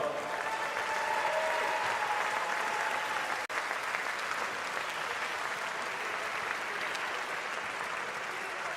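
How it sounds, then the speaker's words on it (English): Sustained crowd applause for the England and France teams at the FIPFA Powerchair Football World Cup final presentation, a broad even roar of clapping with one sharp click partway through. "a big round of applause for England and France as well"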